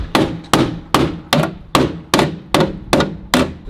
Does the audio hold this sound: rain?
no